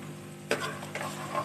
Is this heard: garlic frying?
yes